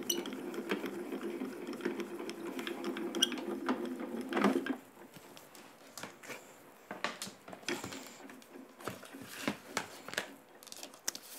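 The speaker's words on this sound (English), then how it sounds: "So I'm going to run it through, put my tan mat and my embossing plate over it, and that may just do the trick." A die-cutting and embossing machine cranks a card sandwiched with a tan mat and embossing plate, giving a steady close whirring grind for about four seconds, then scattered faint clicks and rustles of handling.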